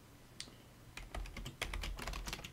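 Close-up typing on a computer keyboard, a quick burst of crisp key clicks that starts sparse, then runs into a dense rapid patter of keystrokes with no talking.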